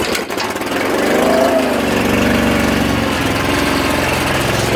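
A Garlock Roof Warrior's pull-start motor catches and runs: after a brief rough start, a loud, steady small-engine drone continues close by, alone and without talk.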